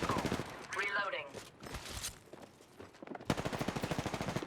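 Rapid gunfire bursts in the Apex Legends video game, rhythmic automatic shots in short volleys, loudest at the end, with speech and game voice lines mixed in.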